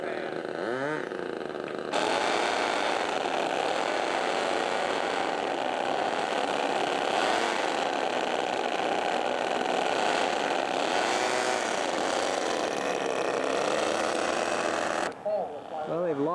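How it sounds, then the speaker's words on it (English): A small scale model aircraft engine buzzes in a high, even drone at an air show, then sputters and cuts out near the end; steady and fairly close, with a faint voice commenting. "they've lost that troublesome engine, so they're going to have to start it again. Nope, just won't keep running."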